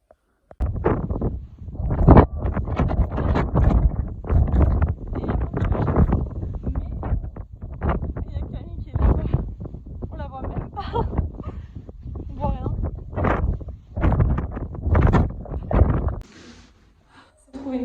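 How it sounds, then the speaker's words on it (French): Strong wind on a hiking trail gusts and buffets the microphone in rough, rumbling bursts while people talk over it almost continuously. "Il y a quand même beaucoup de vent."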